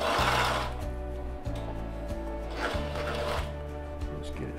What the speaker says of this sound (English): And now we want to do a little bit of edge top stitching.